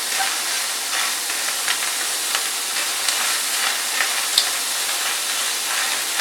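Food browns in a pan with no oil, giving a steady, soft sizzling hiss close by, dotted with faint small crackles and pops.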